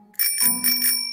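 A cartoon tricycle bell rings bright and loud, a quick double ring followed by a sustained metallic shimmer that slowly fades.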